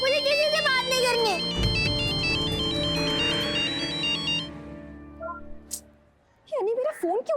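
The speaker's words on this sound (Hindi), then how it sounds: "अनी, तुम्हारा फोन बज रहा है" A phone ringtone plays a repeating electronic melody loud and close for about four seconds, then stops, and a voice speaks at the end.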